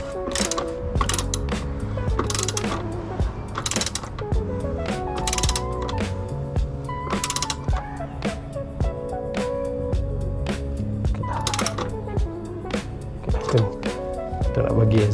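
Motorcycle exhaust screws being tightened with a ratchet, rapid clicking bursts repeating close by over a humming background, with someone talking intermittently.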